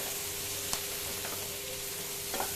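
Pirandai (veldt grape) sautés in a pan for chutney, a dense, steady sizzle close by with a couple of faint spoon taps.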